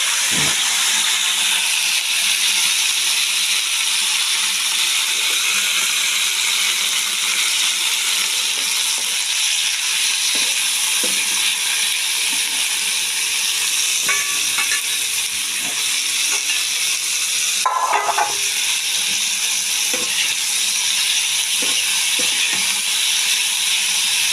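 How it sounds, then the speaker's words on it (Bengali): Broccoli fries in a pan with onion, giving a steady, even sizzle and hiss throughout. A few faint clinks and stirring knocks rise briefly over it. "এবার ব্রোকলিটা ভেজে নিচ্ছি"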